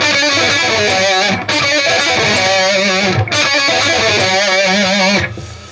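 Overdriven electric guitar lick, fast hammer-ons and pull-offs ending on wide vibrato, close and loud with brief gaps between phrases.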